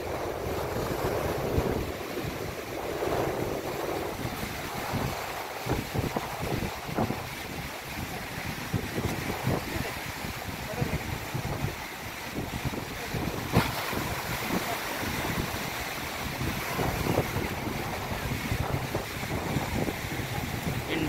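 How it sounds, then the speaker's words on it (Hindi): Indian Navy boat heading out to sea off Kochi, Kerala: a steady, loud rush of wind and surf washing over the boat's running noise, continuous throughout with no voices. "ये देखिए इंडियन नेवी की वो जो बोट है वो जा रही है समुद्र की ओर।"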